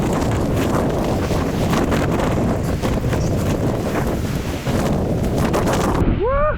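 Strong, gusty wind roars steadily across the microphone on a rainy mountain bike trail at Cwmcarn, a dense continuous rush with a brief voice-like sound near the end.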